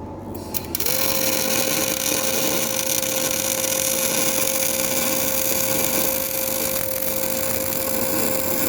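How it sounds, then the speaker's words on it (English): Steady electrical buzz with a constant tone runs loud and continuous while a part is welded in place during a rear-axle-up-front conversion on a Suzuki Sierra (Samurai), following a brief click at the start. "weld this in place, and that's going to be it"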